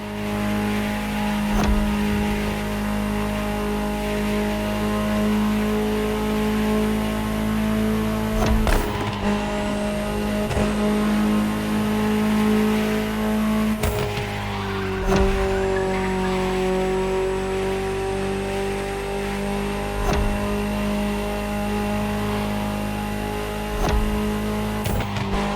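A Ferrari engine in a video game revs and drones steadily with harmonic tones, pitch rising at times, loud and continuous with a few sharp shifts.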